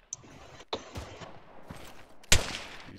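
Gunfire in the military shooter game ArmA 3: a few distinct sharp shots, one early and faint, others spaced apart, with a loud close report near the end over a low background.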